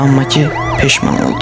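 A siren wails in rapid rising and falling sweeps over engine noise, while someone speaks briefly.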